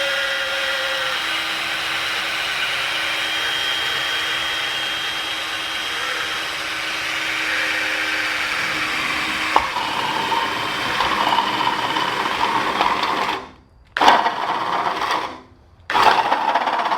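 A power drill whirs steadily, its pitch shifting as the bit grinds into a thin metal can, with two brief pauses near the end before the motor spins up again.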